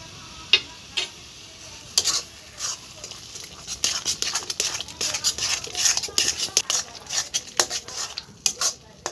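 A utensil scrapes and knocks repeatedly against a pot while a rice, coconut and salt mixture is stirred over the heat, irregular close clatters at a steady working pace with faint background noise.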